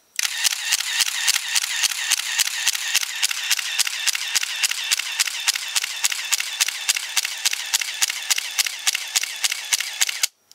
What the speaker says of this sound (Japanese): スイッチをですね、C のところにすると連続撮影ができます